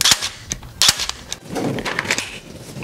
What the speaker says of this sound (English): I'm just gonna add it right here and we're gonna staple it.